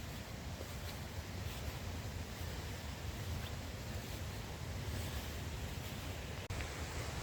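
A waterfall in the Wood of Cree gives a steady, broad rushing roar that stays even throughout.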